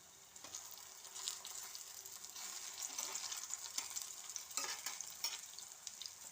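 Breadfruit pieces frying in coconut oil on a flat tawa, giving a continuous soft sizzle with scraping and stirring bursts as the pieces are turned.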